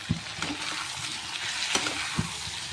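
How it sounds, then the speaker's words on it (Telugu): Ginger-garlic paste fries in a pan while being stirred for a green peas and potato kurma, giving a steady low sizzle with a few soft scraping clicks of a spoon, alone and close. "ఇప్పుడు నేను అల్లం వెల్లుల్లి పేస్ట్ అయితే వేస్తున్నాను."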